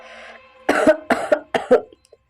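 Three harsh coughs in quick succession, close and loud, after a brief soft voiced sound at the start.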